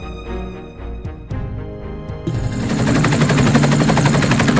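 A helicopter sound effect from a sound effects library starts with tonal, music-like layers, then a loud, dense rotor chatter with rapid rhythmic thumping takes over and holds steady to the end.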